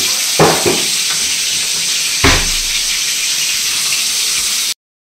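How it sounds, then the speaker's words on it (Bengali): Chicken pieces frying in a pan give a steady, close hiss and sizzle, with a few sharper crackles and pops along the way, then it stops abruptly. "সব চিকেনগুলো এক এক করে ভেজে নিই"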